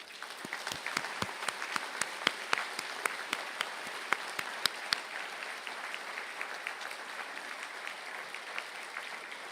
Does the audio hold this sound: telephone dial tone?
no